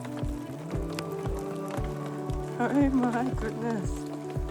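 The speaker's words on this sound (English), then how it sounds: "Lots of rain to welcome you into your new home." Heavy storm rain pours down on a homestead as a steady, dense hiss, with regular dripping knocks beneath it. Someone speaks and exclaims over the downpour.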